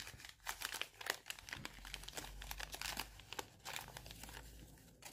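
Package wrapping being opened by hand, close, soft rapid crinkling and rustling with small tearing sounds throughout, quiet and continuous with no voices.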